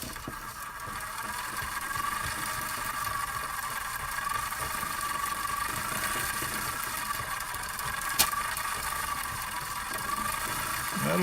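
Hand-cranked Filmo 16mm film rewinds cranking steadily for over ten seconds, a continuous mechanical whirring and rattling hum with a faint squeal, close and even, with one brief click near the end.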